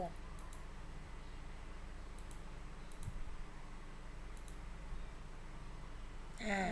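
A computer mouse clicks a handful of times, each click faint and sharp, spaced irregularly over a steady background hum.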